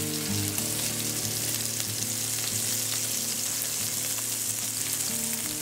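Steady, dense sizzling of cheesesteak meat frying in hot rice bran oil, crackling continuously and close by with no voices.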